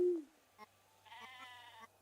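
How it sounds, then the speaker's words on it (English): Sheep bleating in the farm and shop video game Discounty: one short, wavering bleat from a single animal, alone and fairly quiet, after a brief low tone at the start. "There's another sheep down here somewhere."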